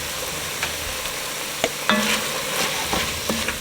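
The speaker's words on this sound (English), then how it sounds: "let that garlic cook in the meat" Garlic sizzling in browning ground meat for taco soup, a steady close frying hiss with occasional stirring scrapes and clicks of a utensil in the pot.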